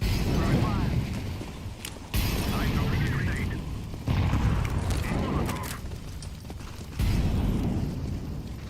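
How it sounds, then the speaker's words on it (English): Grenade explosions in the video game Return to Castle Wolfenstein: several heavy, booming blasts come in sudden bursts separated by rumbling gameplay noise, with someone talking over them. "I'm throwing a grenade"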